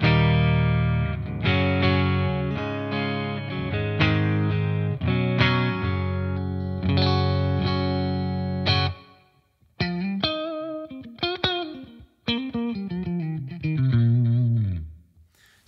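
Electric guitar through the clean channel of a VX100 amp into a V30 cabinet, captured on a Quad Cortex with room reverb, strummed chords ringing out, then single-note melodic lines trailing off.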